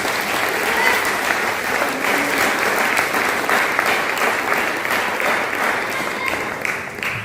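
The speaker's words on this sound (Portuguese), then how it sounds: "Aplauda o Senhor em nome de Jesus" A church congregation applauds together in a steady, dense wash of clapping that fills the space loudly and evenly from start to finish, with no voices rising above it.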